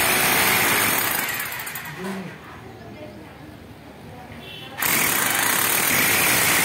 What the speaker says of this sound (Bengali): আমরা দুইটাই ড্রিল করে নিলাম।